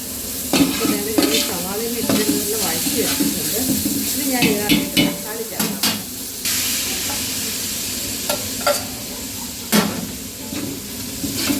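Onions sauté with salt in a pan, a loud sizzle broken by repeated scraping and clattering strokes of a spoon against the metal, heard up close.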